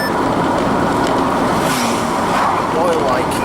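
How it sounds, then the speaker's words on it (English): A Caravanette campervan engine runs at a steady, continuous drone on a summer afternoon drive along Welsh roads, with a voice talking over it throughout. "The engine sounds like it's a Caravanette engine"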